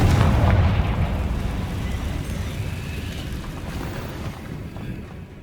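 A Confringo blasting spell in Hogwarts Legacy goes off with a loud boom at the start, then trails into a long, fading rumble.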